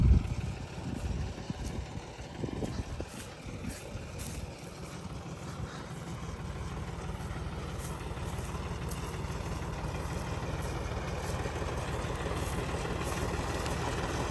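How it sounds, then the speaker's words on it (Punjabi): A John Deere tractor drives a spray pump in a field of wheat and potatoes, its engine holding a steady, unbroken idling drone from start to finish with no talk. "ਇੱਧਰ ਲਾਇਆ ਹੋਇਆ ਟਰੈਕਟਰ ਪੈਂਪ ਵਿਛਾ ਲਿਆ ਵਾ"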